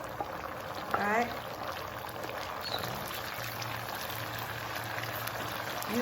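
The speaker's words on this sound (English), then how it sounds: "You boil it, stir often. So when you see the bubble coming out, it's almost ready." Jjajangmyeon noodles boil in a pot of water, giving a steady bubbling hiss close by, with a brief voice and a few faint clinks over it.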